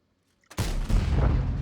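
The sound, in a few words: artillery fire in the video game World of Tanks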